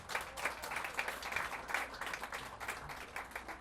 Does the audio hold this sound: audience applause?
yes